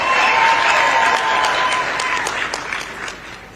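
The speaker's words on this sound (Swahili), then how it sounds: "Makofi special for Jacqueline." Loud, dense applause from an audience at a county government event fills the clip, steady at first and gradually thinning out toward the end.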